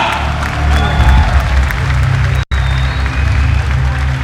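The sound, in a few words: audience applause at boxing event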